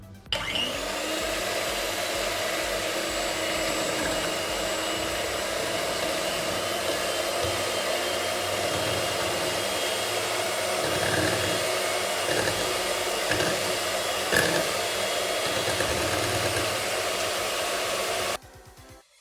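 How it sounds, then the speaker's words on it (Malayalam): An electric mixer beats cream for a black forest cake, giving a loud, steady whirring drone that runs continuously and close up before cutting off at the end. "നന്നായിട്ട് ബീറ്റ് ചെയ്ത് കിട്ടിയിട്ടുണ്ട്."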